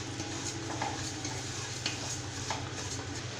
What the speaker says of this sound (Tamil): அந்த எண்ணெய், நெய் இது ரெண்டுலேயும் சேர்த்து ரவையை நல்லா வறுத்து விடணுங்க